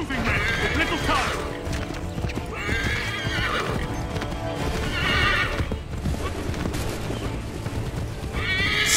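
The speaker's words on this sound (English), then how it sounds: "Stop neighing and just go." Horses neigh and hooves clip-clop in Assassin's Creed 3 gameplay, with several loud whinnies rising over steady galloping hoofbeats and someone talking throughout.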